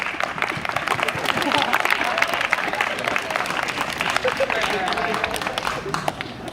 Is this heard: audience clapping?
yes